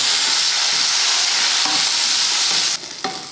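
Small onions, garlic cloves and ginger sauté in a pan with a loud, close, continuous sizzle and hiss, with a few faint clinks of stirring, and the sizzle drops off near the end.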